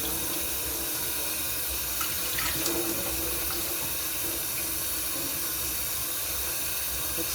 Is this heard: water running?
yes